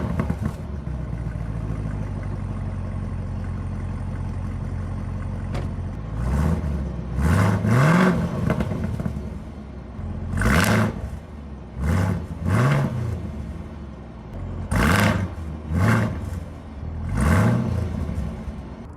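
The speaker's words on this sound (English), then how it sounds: "I'm gonna start it up real quick and I'm gonna put it in the different modes so you can hear it" A supercharged 650 hp 2023 Camaro ZL1 idles with a deep, steady rumble and is then revved again and again in loud, rising bursts that fall back to idle, close to the listener.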